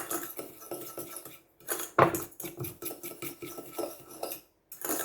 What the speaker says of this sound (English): You have to really whisk this up nice.